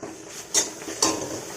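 Fiddlehead fern (dhekia) with lemon frying in a pan as it is mixed: a soft sizzle beneath two sharp scrapes of a utensil against the pan, spaced about half a second apart.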